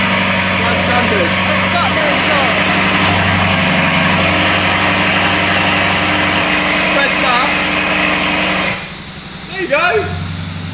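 Lamborghini Urus, a rebuilt wrecked example, idling with a steady low engine hum and tonal drone, close, which drops in level near the end as people talk over it.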